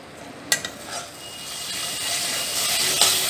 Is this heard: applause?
no